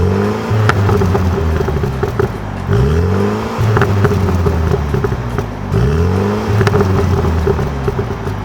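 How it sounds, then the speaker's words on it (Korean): A Mini Clubman John Cooper Works accelerates hard with a loud, close exhaust note, rising in pitch through repeated revving sweeps and gear changes, with no talking over it. "이거 배기음이 되게 좋아요"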